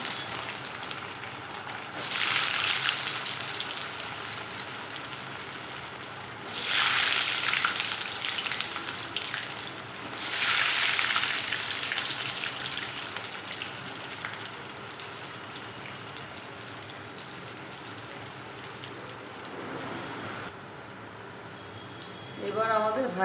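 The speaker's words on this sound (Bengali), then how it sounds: "এবার তেলটা গরম হয়ে গেছে, এবার চিকেন জ্যাকেট পটেটোগুলো ছেড়ে দেবো একটা একটা করে" Chicken jacket potatoes frying in hot refined oil in a wok, a steady crackling sizzle that swells in several louder bursts as pieces are added one at a time, with a voice speaking over it.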